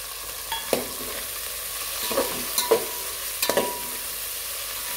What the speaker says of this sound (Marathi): हे छान परतून घ्यायचं.